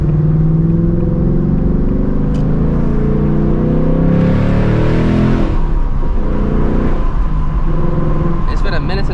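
Ford Mustang GT in drag strip mode accelerating hard, its engine note climbing through gears with audible shifts and a throaty rumble, loud and close, with brief voices over the engine.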